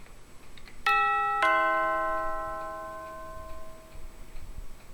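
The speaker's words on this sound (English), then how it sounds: "Nice doorbell." A video game doorbell rings two clear chime tones in quick succession, each ringing out and slowly fading in a quiet scene.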